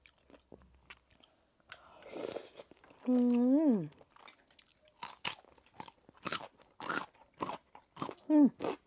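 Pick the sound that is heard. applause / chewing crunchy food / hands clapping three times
chewing crunchy food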